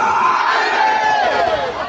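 A large crowd at a religious gathering shouts the slogan Ya Rasool Allah together, a loud, dense, sustained collective cry filling the whole moment without pause.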